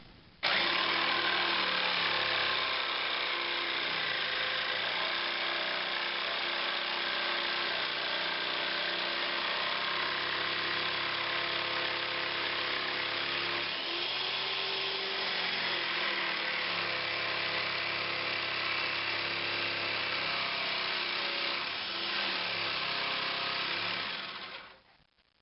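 A power saw blade grinds steadily through an amp cabinet board, cutting a 9-inch speaker hole, loud and continuous for nearly the whole stretch before stopping abruptly at the end.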